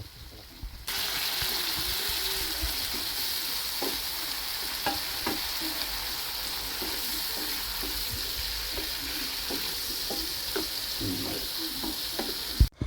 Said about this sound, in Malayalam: മുളക് പൊടി, മല്ലിപ്പൊടി, കുരുമുളക് പൊടി ഇതെല്ലാം കൂടി ഒന്നിട്ടിട്ട് നന്നായിട്ട് ഫ്രൈ ചെയ്തെടുത്തിട്ട് അതിനകത്തിലോട്ട് നമ്മളാക്കി വെച്ചിട്ടുണ്ടായിരുന്ന തേങ്ങാപ്പാലും കൂടി ഒഴിച്ചിട്ട് നന്നായിട്ടൊന്ന് വേവുന്നത് വരെ വെയിറ്റ് ചെയ്തു